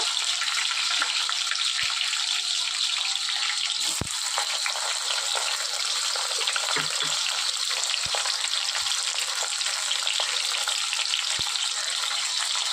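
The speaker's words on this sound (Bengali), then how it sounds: "তেল গরম হয়ে গিয়েছে, এবার আমি পটলগুলো ভেজে নেব। পটলগুলো অল্প নুন হলুদ দিয়ে ভেজে নেব।" Pointed gourd (potol) pieces fry in hot oil, giving a steady, loud, continuous sizzle with a few sharp clicks and pops scattered throughout, with no voices.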